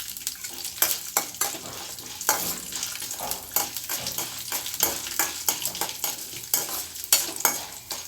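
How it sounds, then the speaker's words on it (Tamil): Dried red chillies sautéing in oil for a radish chutney, a continuous crackling sizzle broken by repeated stirring scrapes at an uneven rhythm, close and moderately loud with no speech. "காஞ்ச மிளகாய் நம்ம சேர்த்து கொஞ்சம் நேரம் வதக்கிக்கிடுவோம்"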